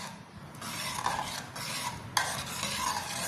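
Curry paste is stirred in a pot to dissolve it, heard as close, fairly quiet scraping and swishing strokes with a sharp clink partway through and no voices.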